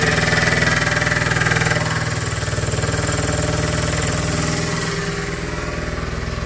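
A PM25MV milling machine with its spindle running produces a loud, steady mechanical hum and whine with a slight drop in level partway through, heard close up without speech.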